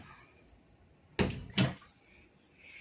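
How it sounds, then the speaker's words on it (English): A cabinet door is handled in two quick knocks, about half a second apart, in a quiet room. "Hold on one second while I open up the door."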